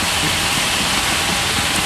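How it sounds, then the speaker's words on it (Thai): Heavy rain pours steadily at night, a dense, continuous hiss with a broad roar spread evenly across the whole stretch, close and loud with no breaks or voices. "ฝนตกแรงแบบนี้เลยครับตอนกลางคืน"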